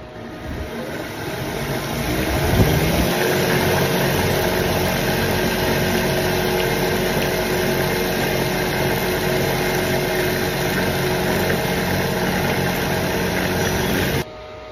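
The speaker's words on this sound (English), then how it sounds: "So we're gonna polish it and see how that goes." A power tool runs steadily while polishing a steel axe head, a loud continuous whirring drone that builds over the first few seconds, holds, then stops abruptly near the end.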